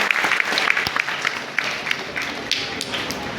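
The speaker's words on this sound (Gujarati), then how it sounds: "તો ખાસ આ બાળકોને આપણે જોરદાર તાળીઓથી વધાવીએ" An audience breaks into steady, continuous applause for children who have recited a Sanskrit verse, with dense overlapping claps filling the whole stretch at a lively level.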